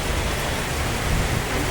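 Heavy rain pouring down, a dense, continuous hiss of close, loud downpour with no voices over it.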